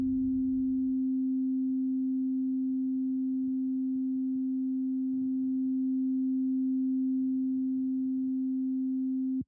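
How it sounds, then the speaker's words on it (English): A steady sine test tone held at a constant level by a maxed-out compressor in VoiceMeeter, continuous and unchanging for the whole stretch, with faint low rumbles and clicks underneath at times. "this tone is playing at a consistent volume."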